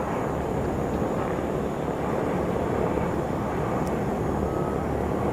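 A de Havilland aircraft heard at an airfield, its engine drone a steady, broad roar that holds level throughout, fairly distant with no voices over it.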